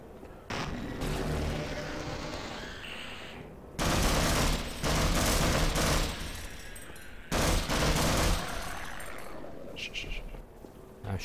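Rapid gunfire from the Half-Life video game, dense bursts of shots coming in loud waves with brief pauses between them and some talk mixed in.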